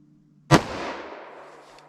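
Single sharp gunshot from a 10mm pistol with a 5.3 inch barrel firing a Buffalo Bore lead-free round through a chronograph, a close, loud crack followed by a short decaying echo.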